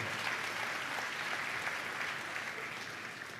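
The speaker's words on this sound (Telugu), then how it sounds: "చప్పట్లు కొడుతూ దేవునికి స్తోత్రాలు చెప్దాం." A church congregation clapping in praise, steady dense applause from many hands throughout, slightly tapering at the end.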